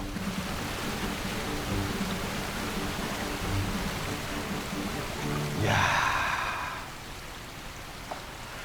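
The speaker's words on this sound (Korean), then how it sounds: "와, 폭포 소리가 어마어마합니다." Niagara Falls waterfall roars as a steady, broad rushing wash of sound, with a brief louder whoosh swelling and fading near the end.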